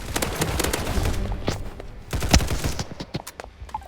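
Rapid gunfire in the video game Hypershot, including sniper fire, comes as a dense run of sharp, close shots and thuds. The shots pile up in bursts, then thin out toward the end.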